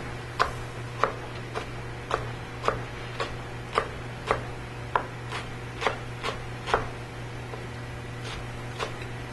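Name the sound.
knife cutting leeks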